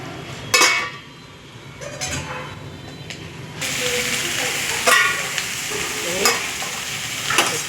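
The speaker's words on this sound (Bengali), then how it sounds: "একটু নেড়ে দিলাম, আবার ঢাকা দিয়ে দিলাম" Food being stirred in a frying pan that is covered again afterwards, cooking with a little water and oil over low heat: steady close sizzling with scraping stir strokes and a louder frying hiss in the latter half.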